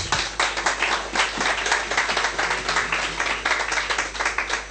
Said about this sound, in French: Applaudissons le Seigneur Jésus